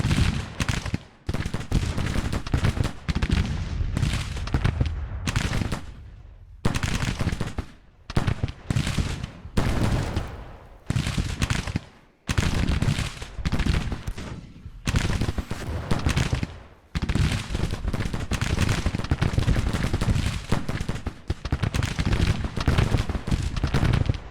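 Sharpshooter gunfire in the Civil War strategy game Grand Tactician, rapid crackling musket volleys in dense bursts separated by brief pauses, loud and continuous with no talk.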